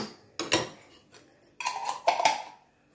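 A spoon clinks against a small bowl while a tablespoon of mustard is added, several light metallic taps and scrapes in quick clusters, close and moderately loud.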